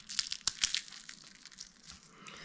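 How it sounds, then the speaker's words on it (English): Crisp crunching bites into beer-battered fried catfish, a few sharp crackly bursts close up, then quieter rustling chewing. "That batter on its own, that beer batter. Even if you just use that batter recipe for other types of fish, that is very crunchy"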